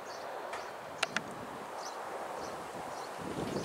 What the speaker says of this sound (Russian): Ай, ай, ветер.